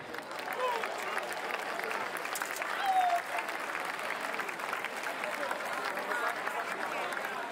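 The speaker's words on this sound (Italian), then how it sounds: "Un applauso, grazie." A live-show audience in Ascoli Piceno, Italy, applauds steadily for several seconds, a dense wash of many hands clapping at an even level, with a voice briefly speaking over it.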